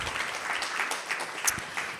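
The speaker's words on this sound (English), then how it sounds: "let's give a round of applause for Srila Prabhupada," A religious gathering's audience claps in honour of Srila Prabhupada, a brief, even patter of applause that stays moderately loud throughout.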